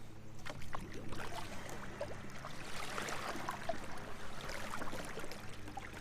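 A Perception Outlaw 11.5 kayak paddled hard on open water, with steady splashing and gurgling from the strokes, heard close and continuous without speech.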